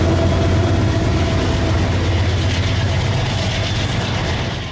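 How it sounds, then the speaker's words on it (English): CSX freight train 403, one locomotive up front and an AC44 and ES40DC pushing at the rear, rumbles past loud and close with a heavy steady roar and rattling that eases slightly at the end. "Today's 403 was also an unusual 1x2 configuration, with one unit up front and two on the rear, a YN2 AC44 and an ES40 DC."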